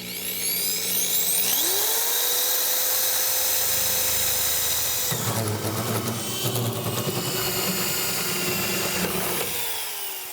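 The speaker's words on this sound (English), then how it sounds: "Cory, before you drill into this" A power drill bores into a truck tailgate, its motor whining up steadily and then growling harder as the bit bites into the metal, loud and close for several seconds with no talk.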